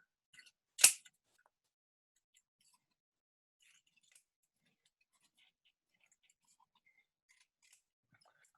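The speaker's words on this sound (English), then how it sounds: "And then I cut the strip into square-shaped pieces." A single sharp snip of scissors cutting a paper strip cut from a cereal box into square pieces, one brief loud cut near the start followed by near silence with faint rustles.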